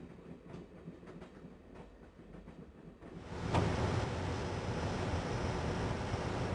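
A moving train in the Broken Sword: Shadow of the Templars game, starting as a quieter rhythmic clatter with faint ticks, then swelling into a loud, constant rumbling roar of wheels on track.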